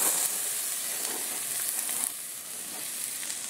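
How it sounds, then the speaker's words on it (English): Bell peppers sauté in olive oil in a hot skillet, producing a continuous close hissing sizzle that eases slightly midway and holds steady with no talk over it. "And you'll saute these until soft."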